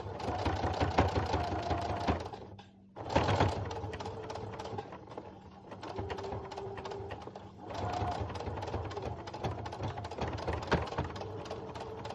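Sewing machine stitching a fabric face mask, a close, steady mechanical whir with a brief pause partway through, then resuming and running on at an even pace.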